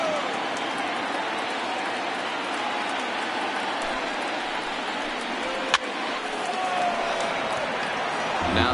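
A packed Yankee Stadium crowd of over 52,000 in an MLB 19 playoff game roars steadily as a dense, even wash of cheering that swells slightly toward the end.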